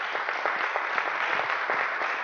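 An audience at a church gathering applauds a priest, steady dense clapping from many hands throughout, moderately loud and slightly distant, no voices standing out.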